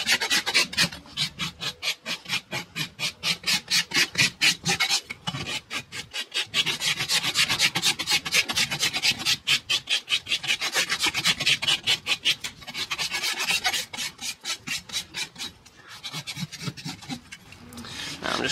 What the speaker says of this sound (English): Now let's rasp it up flat.